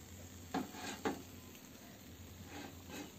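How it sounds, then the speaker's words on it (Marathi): Green chillies go into hot oil for mirchi bhaji, with a faint, steady sizzle and two soft clinks of utensils against the pan early on, quiet and close. "बघा तेल तपलेलंच आहे, आता आपण मिरची टाकू।"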